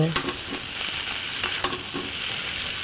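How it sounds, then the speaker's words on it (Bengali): Boiled noodles sizzle as they are stirred into an oily frying pan, a continuous hiss punctuated by quick scraping clatters of the utensil against the pan. "এখন আমি সিদ্ধ করে রাখা নুডলসগুলো দিয়ে দেব"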